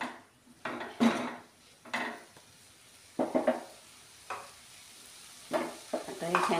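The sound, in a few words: cauliflower sabzi being stir-fried in a pan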